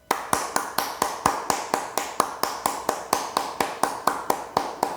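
A church congregation claps in a steady, even rhythm at the close of a Sunday worship service, with sharp, regular hand claps repeating throughout and no talking.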